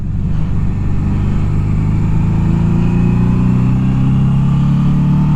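A 1982 Suzuki GS750T motorcycle runs steadily under way, its engine holding a loud, continuous drone with a gradual rise in pitch as it pulls along, close and alone with no voices.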